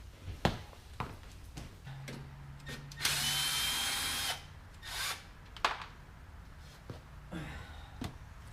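A power drill backs quarter-inch screws out of a cover on a Bad Boy ZT Elite zero-turn mower transaxle, with one long loud whirring run and shorter bursts amid metallic clicks and handling noise, close up.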